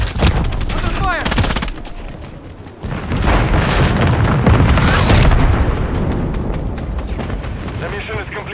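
Heavy gunfire and explosions in the video game Wuthering Waves: rapid bursts of shots and deep booming blasts, loud and dense, with a short lull before the barrage builds again.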